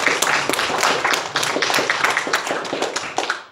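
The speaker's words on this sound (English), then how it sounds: "Shall we give the Lord a round of applause this morning?" A church congregation claps for about three and a half seconds, a dense run of sharp hand claps that stays steady and fairly close before thinning out at the end.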